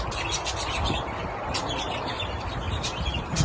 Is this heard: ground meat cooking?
no